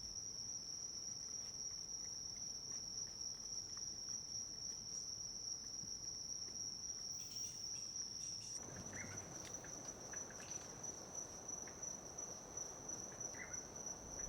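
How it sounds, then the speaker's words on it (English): Insects in a Central American forest chirp in a continuous high, steady drone, with a faint background hum that shifts partway through, alone and without talk. "Other fascinating creatures found in the forest, if one looks hard enough, are insects of various shapes and colors."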